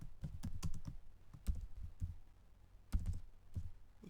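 Computer keys click in short bursts of typing, quiet and close, with irregular clusters of taps separated by brief pauses.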